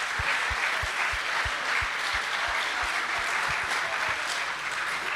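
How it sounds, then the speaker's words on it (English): An audience at a Formula Student business plan presentation final claps for the judges, a dense, steady round of applause lasting throughout without talk. "So a big round of applause for them as well."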